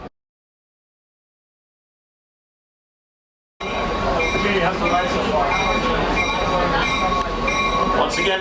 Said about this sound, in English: that's our diesel helper crew coming to the front of the train